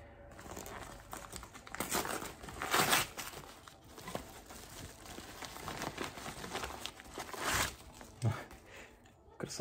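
A crinkly plastic parcel bag from a package sent from Germany is being opened up close, with irregular bursts of rustling and crackling that swell and fade. No voices are heard.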